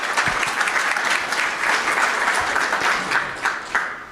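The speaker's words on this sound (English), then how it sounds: "we owe all those folks a big round of applause" Audience applause at a town hall meeting, a dense wash of many hands clapping with a few sharper individual claps standing out, sustained throughout at a steady, fairly loud level.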